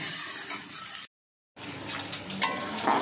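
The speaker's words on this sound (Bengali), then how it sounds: "এবার মশলাটা একটু ভাজা ভাজা করে নিচ্ছি" Spice paste of turmeric and Kashmiri chilli powder sizzles and fries in a pan while being stirred, a steady close crackle with scraping stir sounds, broken by a brief silent gap midway.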